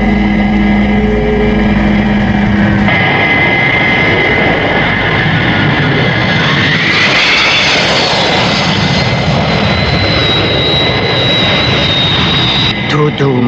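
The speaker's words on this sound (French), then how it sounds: "Attention, je vais atterrir." Cartoon airplane coming in to land with gear and flaps down and braking rockets lit, a steady loud jet-engine roar that swells and shifts pitch midway, with dialogue spoken over it.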